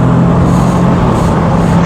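A Rover car engine gives a loud, steady hum as it picks up speed, heard close and continuous with no talking.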